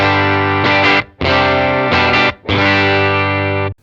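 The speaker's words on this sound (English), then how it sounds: "Just this is the sound coming from the amp through the console," A gritty, crunchy distorted electric guitar from a Vox amp, miked into a console, plays sustained chords in three loud blocks separated by short breaks, close and upfront with no talking.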